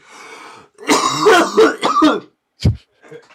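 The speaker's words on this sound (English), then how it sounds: "I feel like I'm missing out on this coughing fest." A person nearby clears their throat and coughs in a rough, rasping burst, followed by one sharp short cough and a quieter trailing sound.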